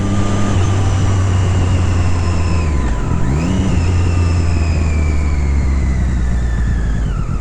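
An Audi car accelerates past, its engine note rising to a brief peak with a pitch sweep as it passes close by around the middle, heard over the steady low drone of a motorcycle ridden at speed.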